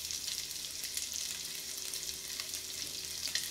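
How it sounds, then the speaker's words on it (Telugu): Chicken pieces frying in hot oil for butter garlic chicken give a dense, steady sizzle that holds close and even throughout. "నూనె కాగుతూనే మీ చికెన్ ముక్కల్ని కొంచెం దూరం దూరంగా వేసుకోండి"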